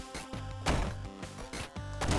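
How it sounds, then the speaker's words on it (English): Rocket-jump explosions in the video game Downwell pop out as a handful of punchy, crunchy blasts spaced roughly every half second amid game noise, moderately loud with no talk. "the rocket jump actually damages things. It's like you have a little explosion surrounding the spot you jump from."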